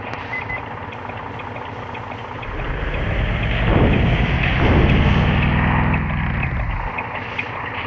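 Bus engine in the Bus Simulator Indonesia video game hums at a low idle, then swells louder and rougher in the middle as it accelerates before easing back, with no talking over it.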